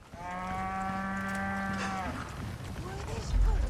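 A cow in Resident Evil 4 lets out one long, loud, steady moo lasting about two seconds, followed by faint rustling and a soft thump.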